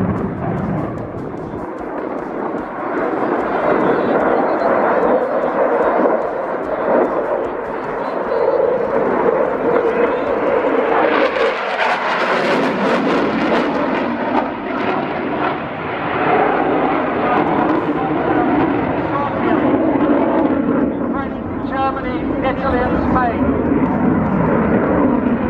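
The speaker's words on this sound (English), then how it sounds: "Ladies and gentlemen, I give you the Royal Air Force 29 Squadron Typhoon." A Royal Air Force 29 Squadron Typhoon fighter jet roars past at an airshow, a broad sustained engine rumble that swells to a harsh peak midway and then rolls on. An announcer's amplified voice talks over it.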